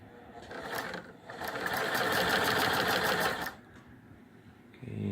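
A Singer 128 sewing machine running a long stitch, its fast rhythmic clatter rising for about two seconds, then stopping, with a quieter start and finish around it.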